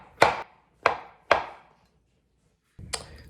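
A knife chops shiitake mushrooms on a cutting board in a home kitchen, three crisp close cuts in quick succession, a pause, then one more cut, with no talking.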